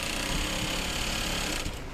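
A sewing machine runs steadily while stitching the side seams of a simple trouser, a continuous close mechanical whir that holds through the whole moment and eases slightly near the end.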